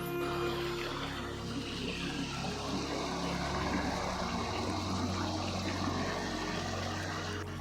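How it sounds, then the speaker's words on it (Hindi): The Song River flowing in Dehradun, where two streams mix. It makes a steady, broad rushing wash that stays dense and even throughout, with no voices over it. "ये अभी दोनों का मिक्स होके आ रहा है पानी।"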